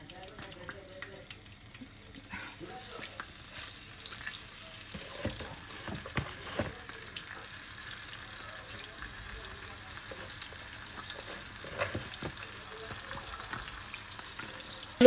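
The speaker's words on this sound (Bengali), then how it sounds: "রূপচেদা মাছ দুইটা ভাজবো" Pomfret fish frying in a pan gives a steady, moderately faint sizzle throughout, with a few louder clinks and spatters in the middle and brief water or tap sounds.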